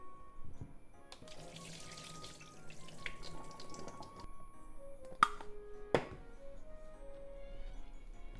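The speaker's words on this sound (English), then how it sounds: "Let's drain, squeeze it really well and add to the frying pan." Rehydrated wakame seaweed is drained and squeezed in a kitchen sink: steady running and splashing water, close and moderate, with two sharp clatters near the end and no talking.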